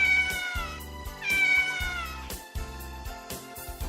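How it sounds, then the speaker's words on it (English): Cat meowing loudly and close, two drawn-out rising meows followed by shorter tonal calls over a rhythmic background beat. "The cat."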